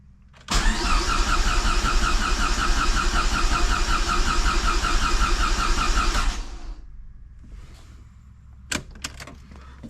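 A Dodge SRT-4 engine, just fitted with a new fuel system, cranks briefly, catches and runs loudly for about six seconds, then fades to quiet, with a few sharp knocks near the end.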